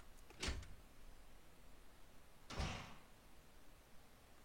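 A small trap door opens in a video game, heard as two distinct door-like thuds, a brief knock followed two seconds later by a slightly longer sliding clunk, over a faint steady background with no talking.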